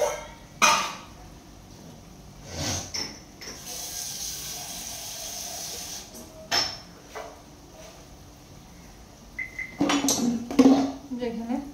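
A pot of milk is set on a kitchen stove for tea, with scattered metallic clanks and clatters of cookware. Some knocks are sharp and some are softer, with quiet gaps between them, and a voice speaks now and then.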